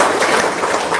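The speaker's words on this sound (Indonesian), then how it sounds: "Tepuk tangan dong." Audience applause at a motivational talk, a dense steady wash of clapping filling the short moment, fairly loud.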